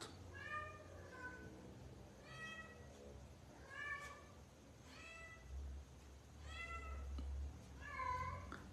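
A pet cat meowing for food indoors, with about five clear, fairly loud meows in a regular rhythm and a faint low hum in the background.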